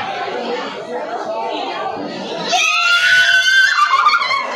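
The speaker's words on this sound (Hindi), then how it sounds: "ठीक है चिल्लाना मत" A crowd at a college food festival in Mumbra screams and shouts loudly and continuously, rising to shriller cheering in the second half, mixed with chatter.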